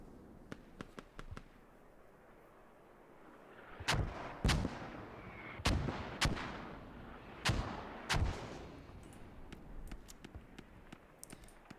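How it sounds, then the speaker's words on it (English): Mortar rounds in a military video game land on the hub in a string of sharp, booming blasts a second or two apart, with faint scattered gunfire crackling in the background. "Mortars again coming down on the hub."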